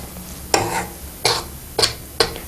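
A spoon scrapes and stirs roasting chickpea flour in a hot pan for Gujarati magas, four distinct scraping strokes spaced about half a second apart, close and clear with no talking.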